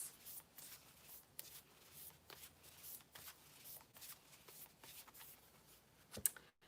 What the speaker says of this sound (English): we shuffled that deck really good